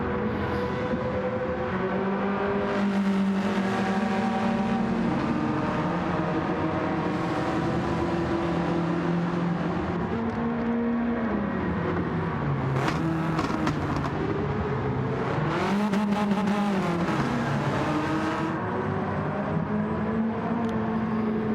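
Race cars lapping Laguna Seca in Gran Turismo 7, engines droning steadily through the whole stretch with pitch rising and falling as they brake for corners and accelerate out, loud and continuous with no voices.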